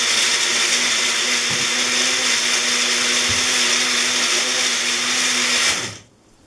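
A blender whirs loudly and steadily as it blends a smoothie, holding an even, dense roar for several seconds before cutting off abruptly near the end.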